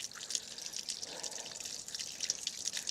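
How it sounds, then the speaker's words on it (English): Water from a tap runs and drips during handwashing at a construction site, a soft, fairly quiet trickle with light splashes and no talking. "That's some water ASMR from me washing my hands"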